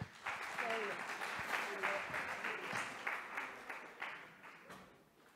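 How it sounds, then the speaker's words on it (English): Audience applause welcoming a speaker at a sports science lecture, a brief burst of steady clapping from a crowd over about five seconds, fairly faint and fading toward the end. "So please welcome, and under your applause, Carolina Lundqvist"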